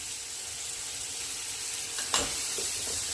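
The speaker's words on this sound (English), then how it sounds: "Stir that up a little bit." Cinnamon and coconut palm sugar being stirred for an apple pie, a steady soft granular hiss with one brief scrape near the end, close and alone.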